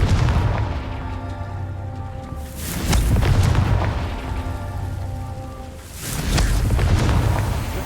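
The Confringo fire spell exploding in Hogwarts Legacy: three loud, deep booming blasts a few seconds apart, each fading into rumble over sustained game music.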